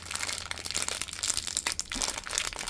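A crinkly, air-filled plastic Disney Tsum Tsum blind bag is squeezed and pulled at, giving a steady close crackling and crunching of plastic with no talk.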